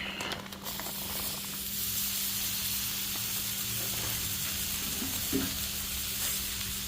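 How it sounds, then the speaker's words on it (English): Half a pound of pulled pork sizzles steadily in a hot pan for a cheesesteak, a continuous close frying hiss with faint stirring scrapes and no talk. "Now I'm going to go ahead and add my pulled pork"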